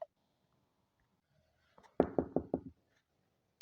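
Four quick knocks on a door in the Toca Boca video game, sharp and evenly spaced in a short burst after near silence, with a faint tap at the very end.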